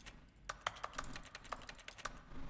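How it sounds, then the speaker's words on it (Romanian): Keyboard keys clack in The Stanley Parable, an irregular run of close, crisp taps with no voices over them. "scoate sunetele astea ca și cum ar apăsa pe calculator"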